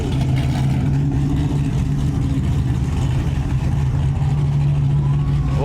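Fast cars and supercars, including an Audi R8, a Lamborghini Huracan and a Corvette ZR1, rumble together at the TX2K car meet, a loud, steady, layered engine drone with a low idling hum throughout.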